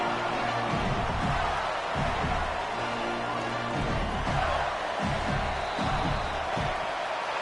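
Broadband stadium crowd roar from a college football video game, Florida Gators against Georgia in a rivalry matchup, a steady dense wash of noise with scattered cheers and no break across the clip.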